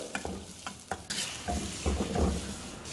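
Onions sizzle and fry steadily in a pan while a utensil scrapes and stirs them in quick strokes, close and clear, with no talking, while cooking Kanyakumari fish curry.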